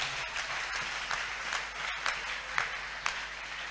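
A church congregation applauding together, a dense steady wash of many hands clapping at moderate distance, with scattered sharper claps standing out.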